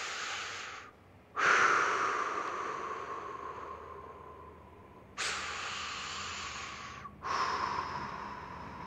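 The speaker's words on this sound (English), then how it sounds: "we're gonna focus on breathing low into the belly" Slow, deep belly breathing heard up close, with long airy inhales and exhales, two full breath cycles separated by short pauses.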